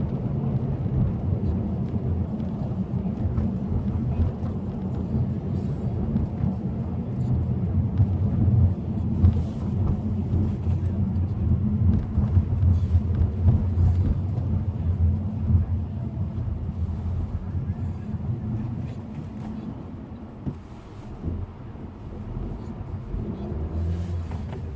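A Honda Civic EX-T six-speed coupe driving in winter, heard from inside as a continuous low engine and road rumble that swells slightly in the middle, with no talking.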